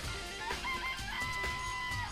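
Chickens clucking in a coop in the video game Danganronpa, several quick soft clucks and short squawky calls over a low background, fairly faint and with no talk.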